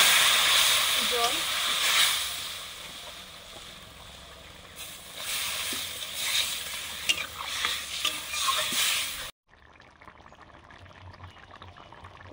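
Taro and prawns frying in a pan, stirred with a utensil: a bright steady sizzle with scraping and clinking strokes for about nine seconds, then an abrupt drop to quieter background with faint voices.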